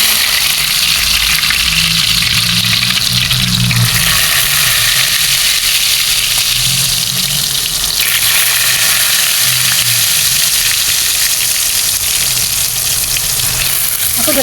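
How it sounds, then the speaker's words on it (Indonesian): Tempeh frying in hot oil over a low flame, a loud, steady broadband sizzle that holds without a break, with faint low rumbles and stirring underneath. "Kita mulai goreng tempenya."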